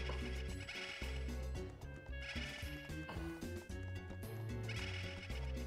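Repeated sheep bleats and horse-like whinnies ring out over busy Mario Party 6 game music and sound effects, loud and layered.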